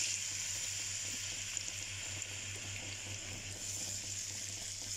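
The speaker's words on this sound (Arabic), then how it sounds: "هروح دلوقتي احط الطماطميه في الزيت" Tomatoes frying in hot oil while making breakfast give a faint, steady sizzling hiss under a low background hum, with no break across the whole stretch.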